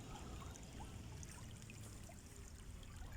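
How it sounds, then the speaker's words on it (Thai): Running water flows in a steady, unbroken trickling wash, faint and distant, with no voices or other sounds. "มาดูน้ำไหล"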